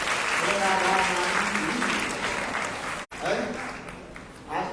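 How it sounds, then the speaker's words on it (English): A crowd at a Bhagavata-saptaha gathering breaks into steady, dense applause that fills the space, briefly cut and then continuing with a voice speaking over it. "so give a big round of applause for them."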